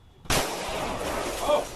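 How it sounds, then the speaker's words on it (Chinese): A police gunshot at a knife-attack crime scene at an English classroom in Hsinchu, a single loud, sharp broadband burst that rings on with a noisy, echoing tail. "关警开枪将人制服，现场拢是枪声"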